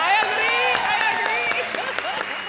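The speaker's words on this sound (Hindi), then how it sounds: "तालियां भैया" Studio audience applauding at a Hindi TV comedy show, a steady wash of clapping with a host's voice talking over it throughout.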